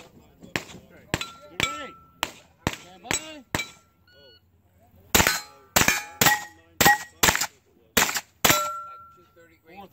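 A CZ Scorpion fired at steel plates on an outdoor Steel Challenge range, a fast string of sharp shots, each followed by a ringing metallic clang, in two bursts split by a short pause.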